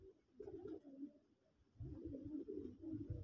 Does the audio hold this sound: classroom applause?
no